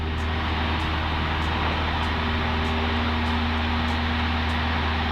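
A Cessna light aircraft engine roars at full power on the takeoff roll, a loud, constant propeller drone with strong low tones and a steady harmonic hum, unbroken and close for the full duration.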